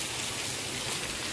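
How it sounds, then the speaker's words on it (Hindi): A steady downpour of heavy rain rushes and hisses without pause, near and full, with no one speaking. "बहुत काफ़ी ज़्यादा से बारिश हो रहा है"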